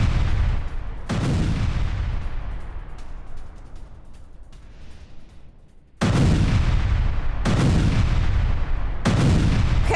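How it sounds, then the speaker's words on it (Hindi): Heavy explosions from a Russian air strike on residential areas in Kherson, Ukraine: a deep booming blast followed by a long rumbling decay, then a sudden loud run of repeated detonations, several sharp bursts in quick succession, no talk. "जहां रूसी हमले के बाद जबरदस्त धमाके हुए।"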